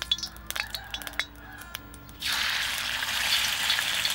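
Garlic and onion hit hot vegetable oil in a pot: a couple of seconds of light clinks and taps, then a sudden loud sizzle that holds steady and close.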